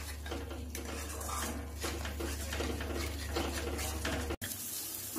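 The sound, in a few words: stir-frying spices in a pan on low flame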